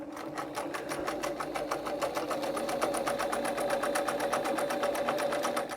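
A Singer 248 sewing machine stitches a zigzag at 1 millimeter length and full width, a fast, even mechanical chatter of rapid needle strokes with a steady motor hum, close and continuous.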